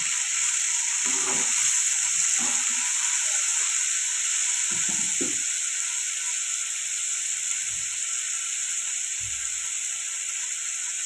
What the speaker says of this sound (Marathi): कांदा फ्राय होत आहे. तर आपण टमाटर टाकून घेऊया.